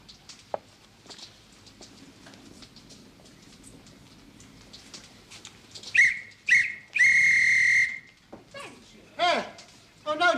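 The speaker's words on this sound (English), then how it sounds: "A police whistle, that's a sporting whistle." A police whistle shrills in a 1973 BBC stage-play production of Pygmalion: two short sharp blasts, then one long loud blast, amid people's voices.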